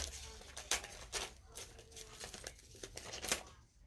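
Quiet, scattered ripping and crinkling as material is pulled apart by hand around a Christmas stocking, a handful of sharp tearing bursts in an otherwise hushed setting.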